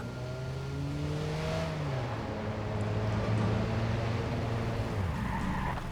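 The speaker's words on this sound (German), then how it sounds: "Ein paar Wagen vom Club sind in deine Richtung unterwegs." Cars approach with engines revving and rising in pitch in the video game Watch Dogs, a loud, steady engine drone with tire noise that carries throughout.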